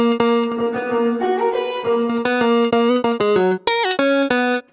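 A guitar-like tone run through a tube compressor, studio reverb and ensemble effect plays a quick run of bright, chorused notes with short room decay, some sliding in pitch, loud and close with no talking.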